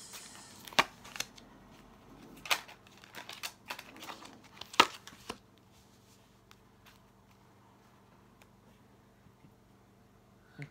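Tarot cards being taken out and shuffled, quiet crisp riffles and taps in short clusters over the first half, then fading to near silence with a single faint click at the end.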